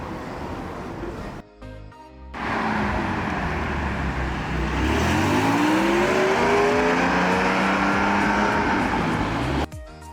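A Porsche 718 Spider engine revs hard, its pitch climbing steeply as it accelerates loudly, after a brief interruption and a burst of engine noise.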